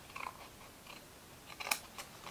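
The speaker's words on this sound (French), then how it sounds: "Alors, ici en haut, on coupe là." Scissors snip through a small paper tab, a few quiet crisp cuts close up with one sharper snip near the end.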